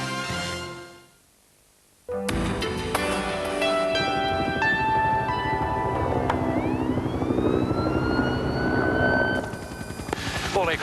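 Firefighting aircraft work over a bushfire at Kalorama, a loud droning engine roar that starts abruptly after a short quiet gap and sweeps in pitch as it passes overhead.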